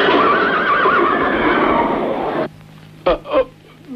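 A horse gives a long, loud whinny with a wavering pitch, then falls quiet, followed by a couple of short, close snorts or stamps.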